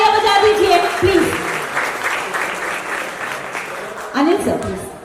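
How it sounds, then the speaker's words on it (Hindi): Audience applause at a Realme 14T phone launch event, a steady wash of clapping that swells again near the end, with a voice speaking over it. "जोरदार तालियां बजा दीजिए, please."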